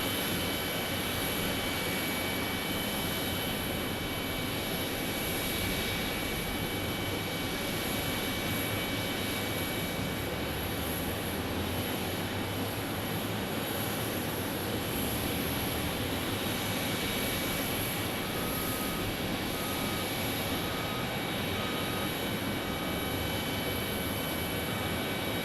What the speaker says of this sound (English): Max 8 here for Southwest Airlines.